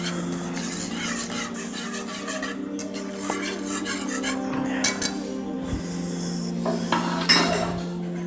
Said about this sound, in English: Add it to your panna cotta. Stir it well.